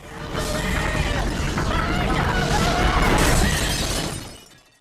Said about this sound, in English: until the glass finally cracked